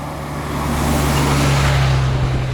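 Cars driving past on a road near Mount Vesuvius, a loud, close, continuous engine and tyre roar that builds and holds with a steady low hum, no voices.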